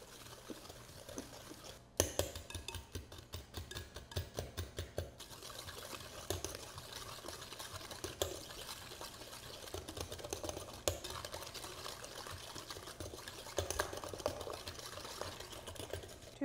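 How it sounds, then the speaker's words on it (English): Whoopie pie batter with sugar and vanilla is whisked in a bowl. Quick, steady rhythmic tapping and scraping runs close and fairly quiet, in bursts with short pauses and no talking. "We're gonna whisk this together."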